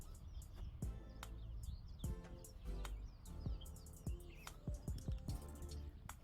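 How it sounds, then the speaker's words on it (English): Faint, quick bird chirps sound repeatedly on an African farm in the rainy season, a scatter of short tweets over soft outdoor background noise. "Sounds like a bird."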